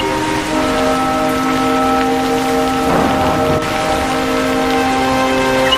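Heavy cartoon rain pours down in a steady, loud hiss of drops hitting a surface, with a brief swell partway through and no voices.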